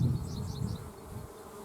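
Bees buzzing close by, a steady drone with a slight pulsing rise and fall, no voices.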